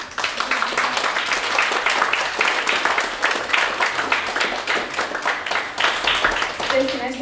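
Applause from the audience at a figure-fan awards event, a long, dense run of clapping that stays fairly even, with rhythmic bursts and a few voices rising near the end.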